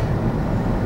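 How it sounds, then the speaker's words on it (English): A BART train passes nearby in Oakland, California, a loud, dense rumbling roar that stays steady through the brief moment. "Wow, look at that BART train."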